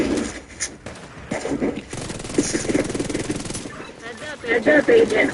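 Video game shootout with rapid gunfire in bursts, moderately loud under overlapping talk, with scattered shots and a louder flurry near the end.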